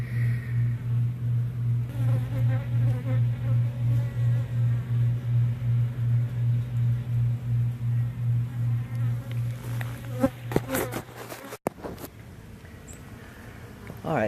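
A loud, close honeybee buzz drones steadily with a pulsing waver during a hive removal, then cuts off and gives way to clattering handling sounds.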